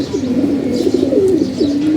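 Pigeons at a home loft cooing nearby, soft repeated throaty warbles rising and falling in a continuous chorus with faint chirps behind.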